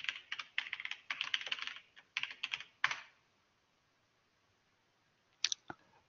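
Typing of a username and password for a Docker login on a computer keyboard, with close, crisp key clicks in quick bursts, a pause of silence, then two final isolated keystrokes.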